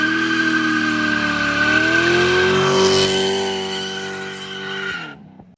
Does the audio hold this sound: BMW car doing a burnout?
yes